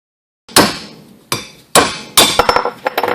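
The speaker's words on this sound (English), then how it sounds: "Just get a chisel and hammer and get this dust collar out of here." A hammer drives a chisel against the dust collar on a two-piece driveshaft: four sharp, close metallic blows spaced about half a second apart, then a quick burst of lighter taps.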